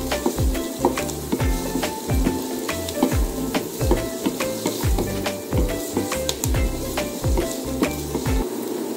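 Garlic sizzles steadily in a hot frying pan, with repeated scraping stir strokes and light clinks of a utensil against the pan, close and continuous for the whole span without talk.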